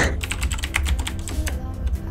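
Rapid computer keyboard typing, a steady patter of key clicks filling the whole short stretch, close and fairly loud over a low background hum.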